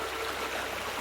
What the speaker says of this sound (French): Et donc là, on est dans la rivière.